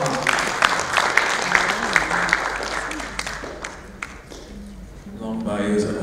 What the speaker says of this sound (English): big round of applause for Jerry